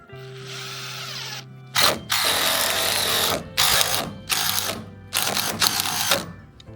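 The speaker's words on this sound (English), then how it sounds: "I may have to drive a screw in there just to pull that over." A power drill drives a screw into woodshed timber in several bursts: a short whirring lead-in, then four loud grinding runs of about a second each, separated by brief pauses, close by, with no talk.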